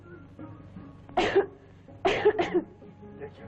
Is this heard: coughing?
yes